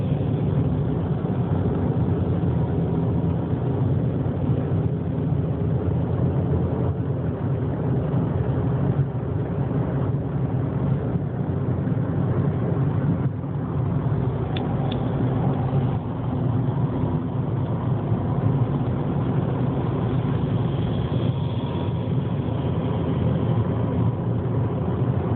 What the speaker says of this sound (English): Got a semi-tractor trailer over here trying to recover product.